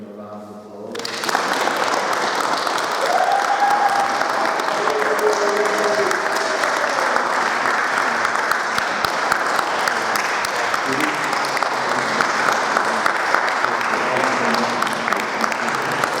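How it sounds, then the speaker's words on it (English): A live audience breaks into a round of applause after a ghost investigation at Mill Street Barracks, the clapping swelling from quiet into steady, dense applause that holds for the rest of the stretch, with faint voices mixed underneath. "So if everyone can join us and just give them a round of applause."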